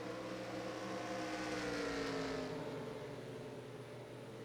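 Stock car engines from the NASCAR Racing 2004 video game drone steadily at high revs, a single car's pitch rising and falling as it passes over a continuous pack roar, with no talk.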